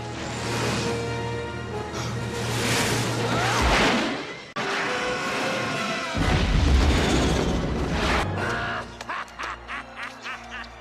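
Firecracker blasts from Disney's Mulan ring out in a loud animated soundtrack, heavy booms and crackling bursts over swelling music, ending in a rapid string of short pops.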